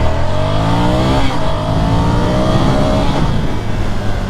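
A Ducati Scrambler Icon 800 motorcycle accelerates hard from a standstill, its loud engine roar climbing steadily in pitch through rising gear runs, close up and continuous with no talk.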